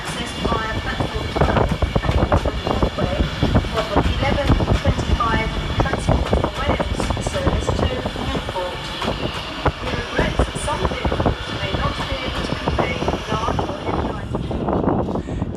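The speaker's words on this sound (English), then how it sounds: "Up next for arrival is 390-043 with the 1123 Avanti West Coast service from Liverpool Lime Street to London" Avanti West Coast 390-043, a Liverpool Lime Street to London Euston service, pulls into Crewe station with a loud, continuous rumble and rail clatter that fills the platform throughout.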